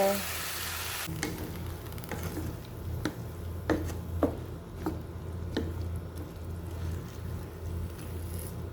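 Water poured into a pan of vegetables cooking for pinakbet with shrimp paste: a steady sizzle and bubbling with scattered small pops and clinks, close and continuous throughout.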